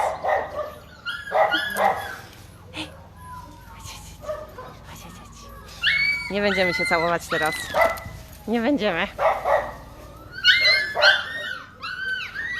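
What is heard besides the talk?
puppies barking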